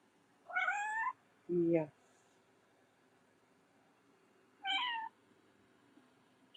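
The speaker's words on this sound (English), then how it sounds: "She's curled up on my chest now and making cute little meowing noises and purring really hard." A cat curled up on a person's chest gives two bright, rising meows and a short lower chirp, separated by quiet gaps, close and fairly soft; one brief spoken word occurs and purring is not evident.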